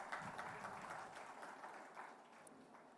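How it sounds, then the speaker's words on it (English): Audience applause closing a conference session at ThinkEdu 2024 at ITC Grand Chola: steady, fairly quiet clapping that runs for about three seconds without speech. "give our speakers and our session chair, and of course, all of them a loud round of applause"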